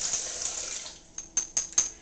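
Water poured into a 20 amp Blendtec blender jar holding chia seeds, salt and greens powder for a smoothie: a steady pouring hiss followed by a few short, close splashes.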